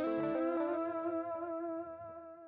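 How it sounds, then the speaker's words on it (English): A guitar run through a dual-mode delay pedal, eighth-note repeats on the left and quarter-note repeats on the right, as a few plucked notes ring out and their echoes trail off, sitting up front with no voices. "So if we wanna have an eighth note in our left and a quarter note in our right,"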